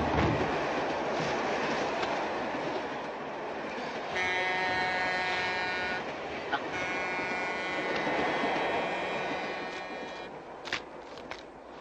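Moving train rolling along with a steady loud rumble and rhythmic clatter, and a sustained tonal whine rising over it midway, in a 1952 film.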